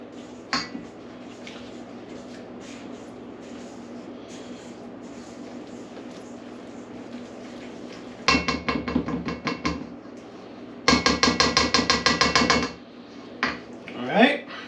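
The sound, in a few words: mixing dry ingredients for pumpkin roll in a bowl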